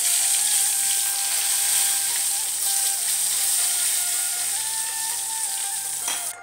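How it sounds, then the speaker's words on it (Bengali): Pieces of eggplant go back into hot oil and set off a loud, continuous sizzle that stays dense and close for several seconds before tailing off at the very end. "এখন এই বেগুনগুলো আবার তেলের মধ্যে দিয়ে দিচ্ছি"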